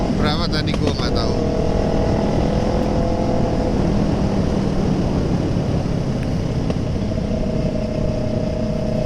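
A Kawasaki ER6N motorcycle pulls hard in third gear, its engine holding a loud, steady drone under heavy wind rush from close by.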